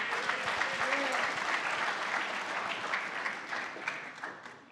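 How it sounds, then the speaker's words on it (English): Audience applause after a speaker, a dense wash of clapping that slowly fades, with a voice briefly talking over it near the start. "I got to give you another round of applause."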